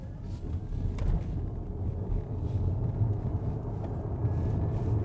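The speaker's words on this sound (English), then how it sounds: "Let's do a little acceleration test here and see what it feels like." A 2023 Lexus RX accelerating in pure EV mode: steady low rumble of road and tyre noise with some wind buffeting, continuous and fairly even throughout, with no engine note rising above it.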